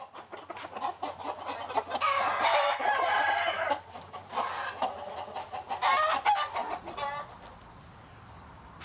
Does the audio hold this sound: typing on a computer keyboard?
no